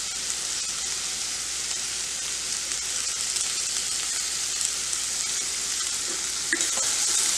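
Paneer masala sizzles steadily as it fries in a pan over high gas, with soft stirring scrapes running through a continuous dense hiss, close and fairly loud, no voices.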